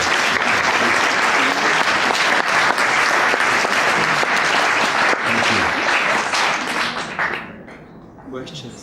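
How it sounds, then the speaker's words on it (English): Audience at a literature festival applauds the moderator with loud, sustained clapping that fills most of the clip, then thins out and fades toward the end. "ask for a round of applause for our moderator"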